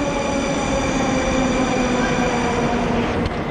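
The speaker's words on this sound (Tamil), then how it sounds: "இங்கே மெட்ரோ வந்து வந்துக்கிட்டே இருக்குது" A metro train arrives at a Moscow metro station with a loud, steady roar of wheels and carriages filling the platform and a faint squeal near the end; no one talks.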